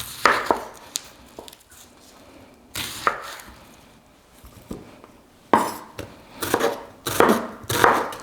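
Knife chopping onions on a cutting board, irregular bursts of sharp thuds and quick repeated chops separated by pauses, close and crisp with light clatter.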